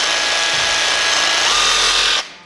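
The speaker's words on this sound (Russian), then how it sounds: "Это сабельная пила." A reciprocating saw cuts wood on its medium speed setting, producing a loud, steady buzzing motor whine that cuts off abruptly just before the end.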